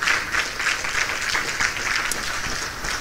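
Church congregation applauding during a worship service, steady dense clapping filling the whole stretch at moderate loudness with no clear voices over it.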